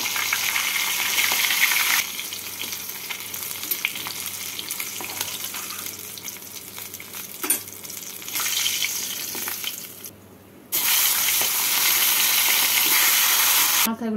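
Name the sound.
fish heads frying in oil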